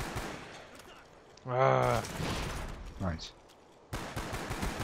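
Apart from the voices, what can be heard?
FAMAS rifle rapid fire in video game Black Ops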